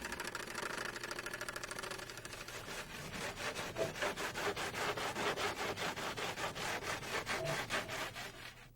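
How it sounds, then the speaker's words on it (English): A shroud ring for a RotorWay 162F helicopter being cut just outside a scribed circle, a loud, close, rhythmic sawing with steady strokes building after a rougher start, and no talking. "then cut just outside of the scribed circle"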